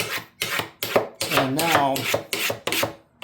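A knife with a card scraper edge on its back scrapes the wood of a bentwood rocker being refinished. Repeated rasping strokes come in a steady rhythm, close and fairly loud, with one longer stroke in the middle and a few words spoken between strokes.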